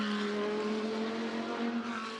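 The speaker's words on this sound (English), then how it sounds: "Eduardo Mortara, car number 10, the Audi." Audi GT race car, number 10, at speed during a free practice session at the Macau Grand Prix street circuit, a steady loud engine drone with a sustained high tone and no gaps or pauses.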